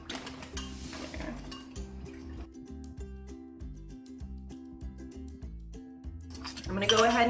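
Sugar is stirred in a metal pot for a kombucha brew, a spoon scraping and clinking against the pot in a steady repeating rhythm, fairly close, with a brief louder clatter at the end.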